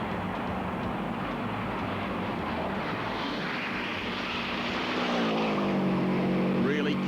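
A Subaru rally car flying along a long, straight, fast forest stage at the 1996 Australian Rally Championship, a steady broadband engine roar rising slightly near the end.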